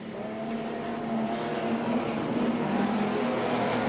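Race cars lapping Redline Raceway during an eight-lap heat, engines roaring steadily and close throughout with a continuous droning whine, no break in the sound.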